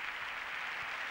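Crowd ovation filling Los Cármenes stadium at the 1996 Sierra Nevada Alpine Ski World Championship opening ceremony, a steady dense wash of distant applause and cheering with no break.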